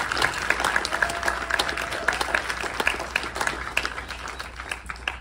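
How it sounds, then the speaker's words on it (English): A crowd at a U.S. film premiere claps for the filmmakers, a sustained round of applause with individual claps standing out, fairly near and moderately loud, with no speech over it. "Yes, another round of applause"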